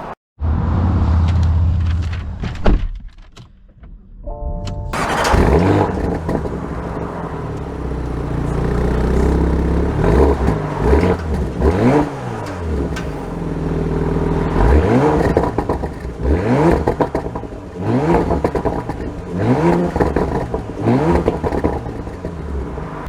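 A Porsche Macan S SUV drives off, its engine rising and falling through repeated revving sweeps as it accelerates and shifts, heard loud and close from inside with no talking.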